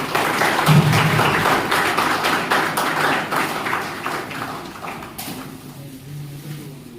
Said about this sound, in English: all are requested to please clap your big hand